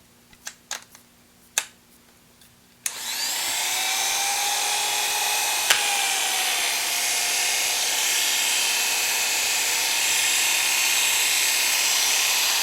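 A few sharp clicks come first, then electric hair clippers with a freshly sharpened blade switch on and run with a loud, steady high-pitched whine and a faint rattle.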